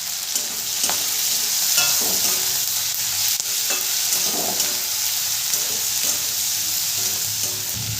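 Half a spoon of dried chili powder sizzles in hot oil with frying chicken in a pan for restaurant-style chili chicken, with a steady close fry hiss and occasional scrapes of a stirring spatula.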